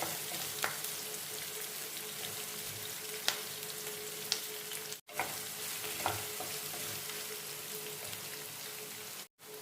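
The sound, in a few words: onion and curry leaves frying in pan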